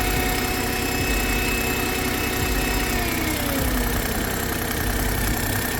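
A small evac pump runs on a Smart fortwo, a constant loud mechanical drone with steady vibration and no breaks, heard up close.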